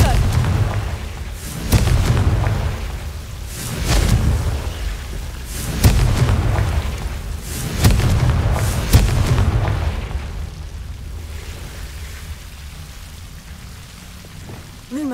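Confringo spell blasts in Hogwarts Legacy burst as repeated booming explosions, several heavy thumps spaced a couple of seconds apart over a rumbling, rain-like crackle that fades toward the end.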